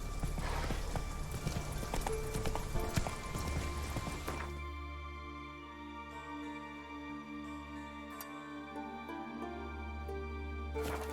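Roach, the horse in The Witcher 3, gallops with rapid hoofbeats for about four seconds. A low sustained tone follows as the hooves fall away.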